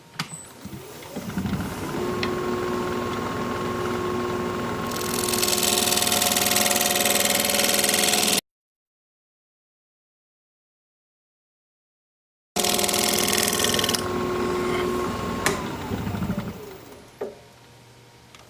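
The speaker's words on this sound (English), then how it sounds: "put a fresh burr on my scraper and we'll scrape" A steel scraper with a fresh burr cuts across a spinning root ball bowl on a wood lathe. A steady whirring hum runs under a broad rasping hiss. The sound cuts to silence partway through, then resumes and winds down.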